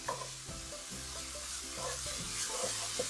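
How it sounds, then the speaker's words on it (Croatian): Chopped onion sizzles in a pan while being stirred, a steady hiss with regular scraping and clunking strokes, close and moderately loud. "Znači luk pržimo jednu minuticu, dvije da on pusti onu svoju finu aromu i sok."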